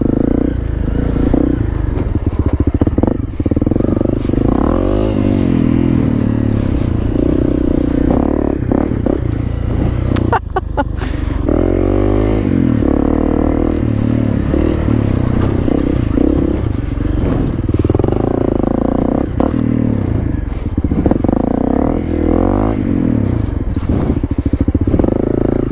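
A motorcycle is ridden outdoors with a steady, loud engine drone and fluctuating revs, while wind buffeting and rattling noise run throughout.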